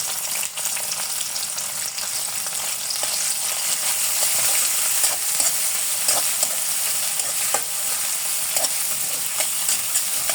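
Onions, green chilies and chicken fry in a pan with a continuous loud sizzle, close up, broken by scattered clicks of stirring.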